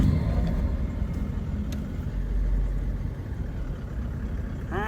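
A car engine idles on a road in the Yukon, a steady low rumble running evenly close by with faint small noises over it and no talking.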